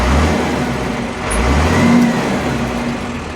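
A John Deere 3130 tractor with a large six-cylinder engine revs up and settles, a rough mid-pitched engine drone swelling in the middle and easing off, close by.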